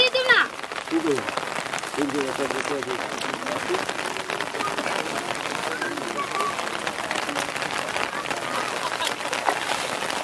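Steady rain patters on a surface throughout, a dense, even hiss with a brief voice near the start.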